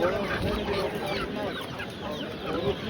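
Broiler chickens clucking in a steady, busy chorus close by at a bird and poultry market, with overlapping calls and general farmyard noise throughout.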